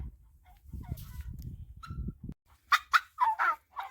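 Two turkey hens in a backyard pen cluck and chirp at close range, with soft low rustling early on and then a burst of sharp, repeated calls.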